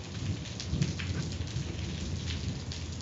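Rain falls steadily on surfaces during a thunderstorm while a low rumble of thunder rolls underneath, continuous and moderately loud with no talking.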